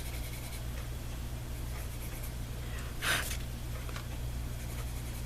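Color-changing colored pencils scratch softly across paper in a steady, faint stroke with one brief louder scrape midway, over a low background hum.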